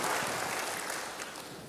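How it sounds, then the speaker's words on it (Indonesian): A church congregation claps for God during a sermon, a dense, steady wash of many hands that fades slightly toward the end, with no voices over it. "Berikan tepuk tangan bagi Tuhan, haleluya."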